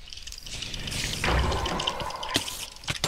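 Splashing through water in a Minecraft evolution minigame, with a brief burst of watery sloshing and dripping sounds, fairly close and clear with no voices over it.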